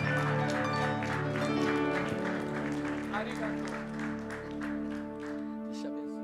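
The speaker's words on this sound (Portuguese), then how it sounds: "Vamos receber com aplauso." A church congregation claps to welcome a pastor to the pulpit, the applause partly buried under sustained keyboard music and voices throughout.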